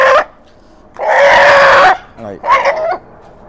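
A long-tailed fighting rooster lets out loud, harsh squawks in two bursts with a brief clucking sound between them, close to the listener.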